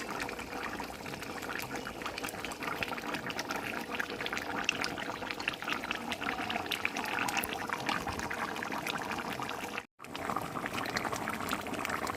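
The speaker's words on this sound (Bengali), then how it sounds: "এবার আমি জল দিয়ে দেব।" Water poured into a pan of well-browned chicken curry, a steady splashing, gurgling pour over faint bubbling, continuous and fairly close for most of the stretch with one brief break.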